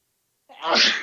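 A single sneeze bursts out after a moment of silence, sharp and close, rising quickly and cutting off within about half a second.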